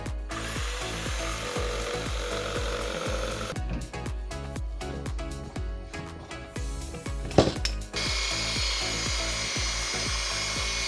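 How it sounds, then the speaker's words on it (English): A jigsaw cuts through wooden panelling for storage in a 2016 Toyota Hiace van, with a fast rhythmic rasping chatter that runs steadily and loudly, pausing briefly before resuming. "The jigsaw doesn't cut them too smooth because of the size of the blade that's on there"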